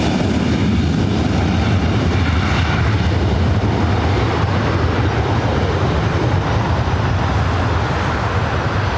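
A Delta jet airliner takes off from runway 24 right at LAX, its engines producing a loud, continuous broadband roar that stays constant throughout.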